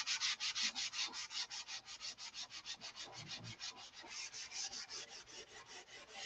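Sandpaper scrubs paint and primer off a wooden SIG Magnum model in a quick, even run of back-and-forth strokes, close and fairly quiet.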